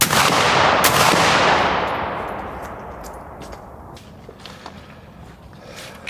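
Two loud shots from a Hawken .54 black powder hunting rifle fire in quick succession, each a heavy boom that rolls into a long fading echo before quiet outdoor ambience.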